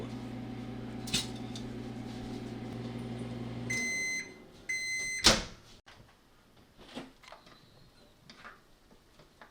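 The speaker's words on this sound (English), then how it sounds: "We're going to be putting this inside the microwave for 3 minutes" A microwave oven hums steadily for a few seconds and then stops, followed by a run of beeps, a door clunk, and quieter kitchen clatter. No one speaks.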